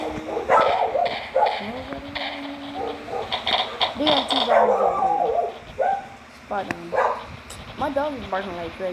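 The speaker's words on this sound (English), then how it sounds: "My dog is barking like crazy, hold on." A dog barks repeatedly in bursts close to the microphone during an online session of the game Zombie Attack, with some whimpering yips between barks and a person talking over much of it.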